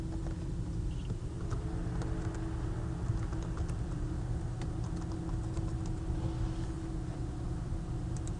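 Light, rapid keystrokes on a computer keyboard as a username and password are entered, soft clicks scattered over a steady low hum of background noise.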